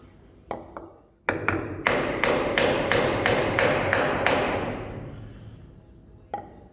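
Sharp hammer blows strike a small block of wood in a workshop, a few scattered taps first, then a quick steady run of about eight loud ringing hits that fade out, with one last tap at the end.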